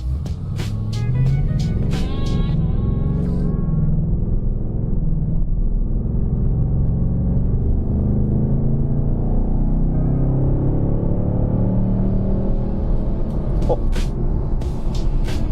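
A 2026 Mustang GT engine with a 10-speed transmission fills the recording with a deep rumble, steady and close, with a few short higher clicks and tones at the start and end.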